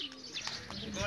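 Soft pigeon cooing rises and falls over a steady background hum, fairly close, lasting only a moment.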